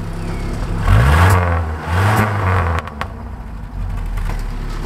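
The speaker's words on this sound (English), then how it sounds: "Listen to that exhaust burble." A 1973 Mitsubishi Jeep Willys, 2.3 four-wheel drive, revved twice in quick blips, its exhaust rising and falling loud and close before settling into a burbling idle.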